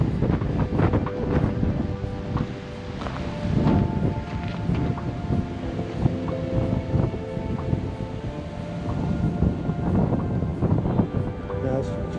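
Wind gusting along an urban shoreline by the bay, a steady roaring rush buffeting the microphone for the whole stretch with no pauses.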